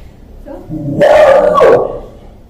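A pet dog at home gives a short bark-like yelp that rises and falls over about a second, fairly close and clear against a quiet room.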